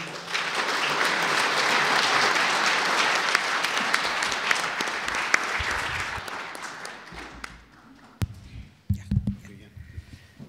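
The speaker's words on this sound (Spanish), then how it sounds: "Por favor, recibámosla con un aplauso." Applause from the audience at an anniversary panel of Mexico's INAH greets a speaker, sustained clapping that fades out over several seconds into a few scattered claps and room noise.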